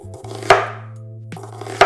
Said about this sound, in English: the next thing I'm gonna do is cut my cooking onion, and I'm just gonna cut it like this